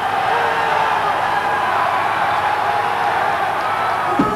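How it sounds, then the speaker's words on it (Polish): Large arena crowd at a strongman competition roars and cheers continuously in a dense, steady wash of noise, with scattered applause and whoops rising through it. "Wielkie brawa dla Amerykanina"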